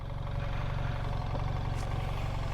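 A BMW R 1300 GS Adventure motorcycle engine runs under light throttle through a tight turn, a steady, loud, low rumble with an even pulsing beat and no speech.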